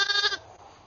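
A ewe gives one short, loud, close bleat that cuts off abruptly, leaving a quiet background.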